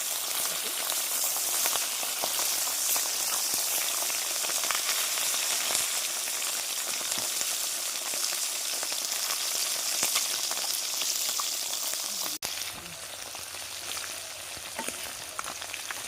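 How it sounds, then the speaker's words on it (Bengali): Steady, loud sizzling of small chapila fish frying in hot oil, a dense crackling hiss that runs continuously, briefly dipping near the end. "তেলের মধ্যে মাছগুলো দিয়ে দিচ্ছি ভেজে নেব মাছগুলো ভেজে নেব"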